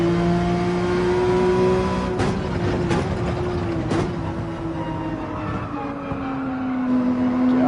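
Race car in Gran Turismo 7 on the Nürburgring, engine droning steadily and loud, pitch climbing and dipping through gear changes, with a few sharp clicks or bumps along the way.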